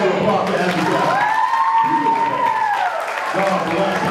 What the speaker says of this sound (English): Give another hand of applause to